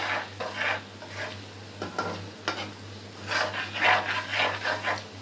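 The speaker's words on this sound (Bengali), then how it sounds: "আস্তে আস্তে ভাজতে হবে" Chatu nimki, a Bengali snack made with sattu flour, sizzles and crackles in hot oil in a pan over a low-to-medium flame, with irregular bursts of spattering and occasional stirring, close by.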